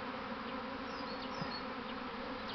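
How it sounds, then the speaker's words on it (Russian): A swarm of young honeybees buzzing close by, a dense, continuous drone of many wings holding steady throughout. "собираем молодых пчел"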